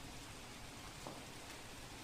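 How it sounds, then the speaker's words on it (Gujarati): Steady rain pours down during flooding in a Gujarat village, giving an even, dense hiss throughout with no speech. "બિલકુલ એ જ રીતે વરસાદ વરસી રહ્યો છે"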